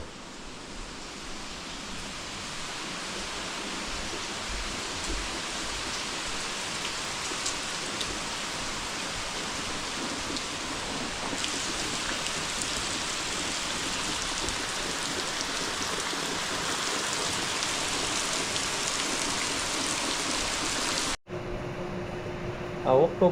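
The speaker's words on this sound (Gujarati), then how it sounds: "બે દિવસથી સખત વરસાદ ચાલુ છે" Heavy monsoon rain after two days of nonstop downpour and flooding: a dense, steady roaring hiss runs unbroken for about twenty seconds before cutting off abruptly.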